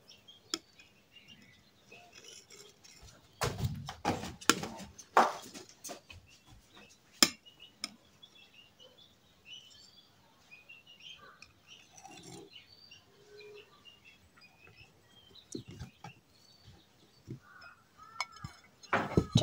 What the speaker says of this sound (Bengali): এখন একটা উপর থেকে প্লেট দিয়ে গোল করে কেটে নিচ্ছি